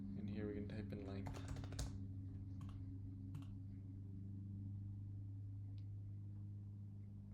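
Quick, light clicks of code being typed on a computer keyboard, close and soft over a steady electrical hum. A person talks briefly at the start, then scattered keystrokes continue alone.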